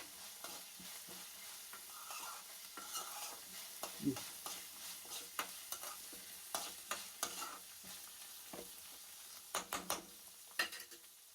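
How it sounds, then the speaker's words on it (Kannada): Oil sizzles quietly in a pan while masala akki roti ingredients are fried and stirred, with frequent scraping and clacking of a spatula against the pan. There is no talking. "ಇವಾಗ ನೋಡಿ ಸ್ವಲ್ಪ ಫ್ರೈ ಮಾಡ್ತೀನಿ ಚೆನ್ನಾಗಿ"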